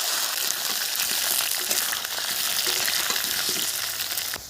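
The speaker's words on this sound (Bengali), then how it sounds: "দিয়ে দেব গোটা জিরে, দিয়ে দিচ্ছি আলু" Potatoes with whole cumin and dried red chilli sizzle loudly in hot oil, a dense, continuous crackle with small stirring scrapes and no talking, part of cooking banana-flower kofta.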